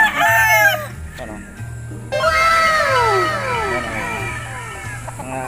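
Gamefowl roosters crow repeatedly on a game farm, several overlapping calls near and farther off, with a steady low hum underneath and no talking.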